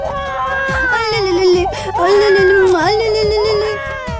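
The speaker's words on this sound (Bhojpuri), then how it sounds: "हमार बच्चा रोवा था" A baby cries loudly and close by, in long wavering wails that rise and fall without pause.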